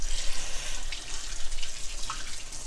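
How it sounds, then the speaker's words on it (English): Running water from a tap pours over peeled boiled eggs in a colander, a steady splashing hiss with small fluctuations and a brief clink near the end, alone without talk. "So we got our eggs all peeled. I'm rinsing them off."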